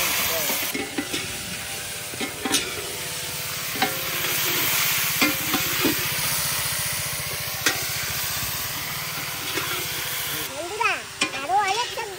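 Mixed khichuri with rice, dal, cauliflower and potato cooking in a pot, a steady sizzle with repeated clinks and scrapes of stirring, close by, while a person talks over it.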